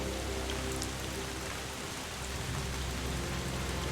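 Steady rain pours down in the video game Drizzlepath, a dense, even hiss of drops on surfaces that stays loud and unbroken throughout, with no voices.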